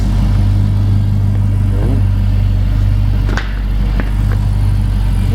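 A car engine revving with quick throttle response after a new spark plug and plug wire change, loud and close, with a steady low hum and a few sharp blips; no talking.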